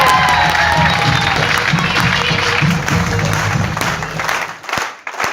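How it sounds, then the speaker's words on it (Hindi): Large audience at a motivational talk bursting into loud, thunderous applause and cheering, a thick sustained wall of clapping with shouts mixed in, dipping briefly near the end. "अरे मैं भी तो इस माहौल की गड़गड़ाती हुई तालियों से देखूं कि कितने 15 से 30 वाले जवान बैठे।"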